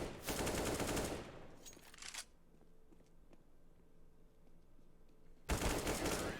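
Loud bursts of rapid gunfire from a first-person shooter tournament match, a long volley followed by a quiet pause with faint ambient game noise, then another loud burst at the end.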